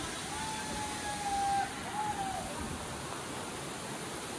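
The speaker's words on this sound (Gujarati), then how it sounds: "એટલો ખતરનાક ધોધ અહીં પડે" Steady broadband rush of the Hathni Mata waterfall fills the scene evenly throughout, with a faint whistle-like tone drifting over it.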